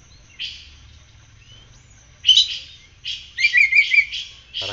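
An oriental magpie-robin (kacer) sings close by: short bright whistles, then a rapid run of loud chirping phrases. A low background hum sits underneath, and no voices are heard.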